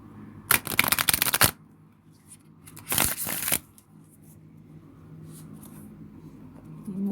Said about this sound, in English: So I will be drawing from the Classic Rider-Waite Tarot.